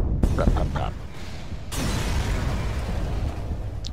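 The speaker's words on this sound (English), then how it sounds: "slave ship destroyed" A ship blows up in the space strategy game FTL with a loud burst of booming, crackling explosion noise, then a sustained rumbling roar, close and dense with no voice over it.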